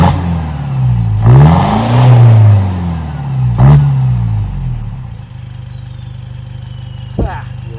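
A Toyota Innova with a 2KD non-VNT diesel engine revs hard through a replaced downpipe exhaust, rising and falling in two loud surges before it settles back to a steady idle, with a brief blip near the end.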